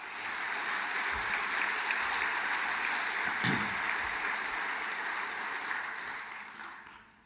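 Audience applause at a charity lunch, a sustained wash of clapping from a room full of people that holds steady for several seconds before tapering away.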